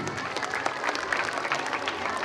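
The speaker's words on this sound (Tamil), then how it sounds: "கைத்தட்டுங்க குழந்தைங்களா." Steady, dense clapping from a crowd of schoolchildren at a school prize event, moderately loud and continuous without pause, with faint voices mixed in.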